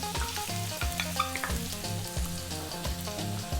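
Onion, carrot and green beans frying over above-medium heat for Indian veggie fried rice, a close, loud, continuous sizzle with rhythmic stirring and tossing, no voices.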